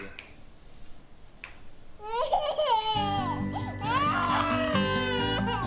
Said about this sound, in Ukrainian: Вона ж плаче.